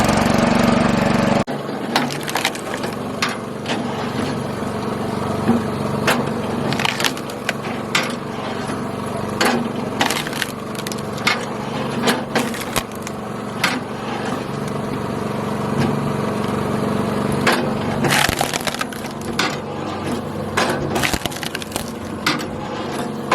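A log splitter works through wood, with repeated sharp cracks and splintering bursts over a steady engine drone, close and loud throughout.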